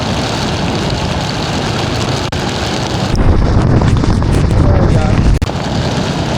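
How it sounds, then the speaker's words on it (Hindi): Strong wind roars into the microphone while riding a Royal Enfield Hunter motorcycle on the coastal road from Gopalpur toward Vizag as a cyclone approaches, a loud constant buffeting rush that swells even harder halfway through. "हवा बहुत तेज बह रही है"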